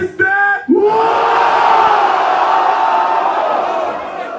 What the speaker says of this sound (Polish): Faceci drą pizdę!